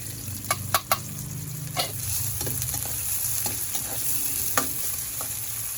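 Onion and garlic sizzle steadily in a hot pan, with a few sharp clinks and scrapes of stirring near the start. Faint background clucking may come from a chicken, and no one talks.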